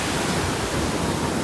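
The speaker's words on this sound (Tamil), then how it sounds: "கடல் பாருங்கள் அப்படியே ரஃப்பாக இருக்குது." Rough sea at Pattinampakkam Beach in Chennai during Cyclone Fengal produces a dense, continuous roar of surf and wind, loud and unbroken, with no voices.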